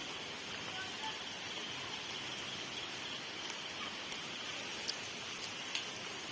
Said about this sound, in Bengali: এই যে সব জায়গায় বৃষ্টি বৃষ্টি।